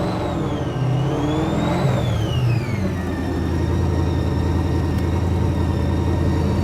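Formula Drift Nissan 350Z with an LS3 engine revving loudly and close, pitch sweeping up and down before settling into a steady high drone as the car rolls in.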